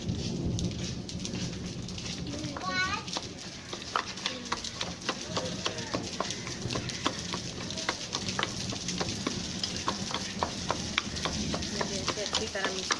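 A spoon stirs and mashes chutney with crushed chili and sugar in a pan, producing soft continuous sizzling crackle with frequent light taps and scrapes, fairly quiet, without speech.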